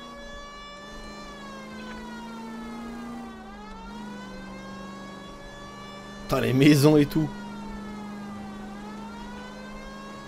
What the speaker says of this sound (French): la sirène, elle me donne mal au crâne, les gars